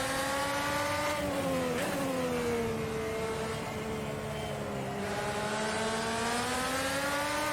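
An IndyCar engine in a racing sim at Watkins Glen screams loud and close, dipping briefly as the driver lifts before climbing steadily in pitch under acceleration, with no talk over it.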